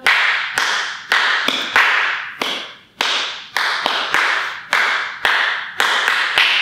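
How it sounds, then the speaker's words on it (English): Hand claps in a steady rhythm keep time with a children's storytime song, roughly a dozen sharp, fairly loud claps in even groups with no other sound between them. "I hope you kept up with the claps better than I did, friends"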